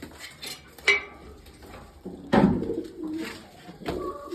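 Pigeons of the Crimean breed cooing and fluttering nearby amid clanking and scraping sounds, with a few sharp knocks and bursts of wing movement.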